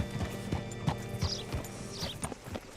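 Horse hooves clip-clopping in Red Dead Redemption 2, a steady rhythmic series of close, moderately loud footfalls with faint background ambience.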